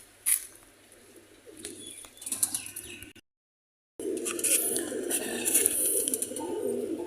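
Sialkoti pigeons coo softly and chirp intermittently in a loft, faint and close. There is a low background murmur, a brief silent gap midway, and then the soft cooing returns.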